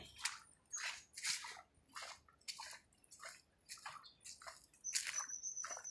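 Floodwater sloshes and splashes in a series of distinct surges, about ten bursts over six seconds, close and fairly quiet against a calm background.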